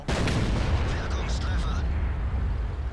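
A tank gun shot hits an E-100 tank in World of Tanks, a loud close boom followed by a rumbling low roar that lingers and fades, with talk over it.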